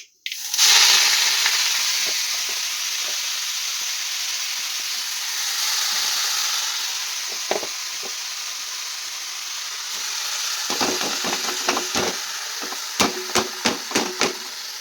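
Leafy greens sizzle in mustard-seed-tempered oil in a black wok, a dense hiss that fades to a softer crackle, with scattered clinks and knocks of a spatula stirring near the end.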